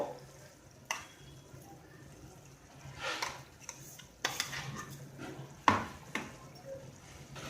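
Gongura prawn curry being stirred in a pan, a spoon scraping and knocking against the metal in scattered strokes over a faint sizzle, close and moderately quiet.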